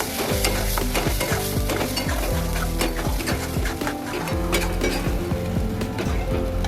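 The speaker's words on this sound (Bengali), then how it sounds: "এবার খুব ভালো করে নাড়তে হবে" Mashed elephant foot yam with turmeric and salt is stirred in a hot pan, a loud continuous sizzle under a quick, regular run of spoon knocks and scrapes.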